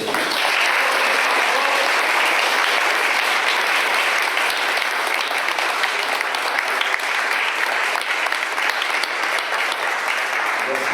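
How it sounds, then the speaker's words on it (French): Sustained audience applause at a round-table discussion on solidarity, with dense, steady clapping that holds at a constant loudness for about eleven seconds. "Vous les applaudissez, non?"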